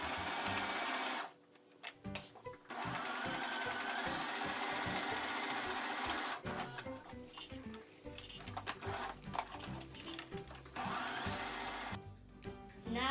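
A sewing machine stitches all around a tote bag with a 1 cm seam allowance, running close by in long steady bursts broken by short pauses.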